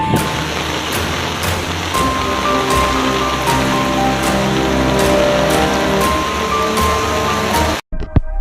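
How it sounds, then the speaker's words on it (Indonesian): Heavy rain with strong wind in Malang, a steady dense downpour drumming on surfaces, loud and continuous throughout with no talk, ending in a brief cut near the close. "Hujan lebat disertai angin kencang terjadi di Kota Malang"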